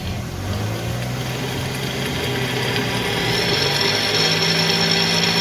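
A crashed Nissan 350Z raised on a lift runs with a steady mechanical whine and rough engine hum underneath, a continuous, fairly loud grinding tone that rises slightly in pitch near the end.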